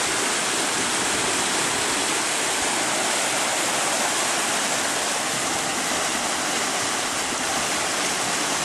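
Continuous loud rushing of the Lacramarca river near Chimbote, Peru, flowing high, a dense unbroken water roar close by with no talking.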